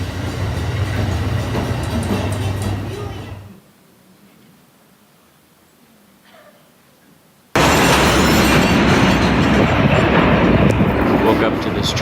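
A parked freight train in Glenview starts moving off, giving a loud, sustained rumble and rolling noise that drops away to near quiet partway through, then surges back just as loudly.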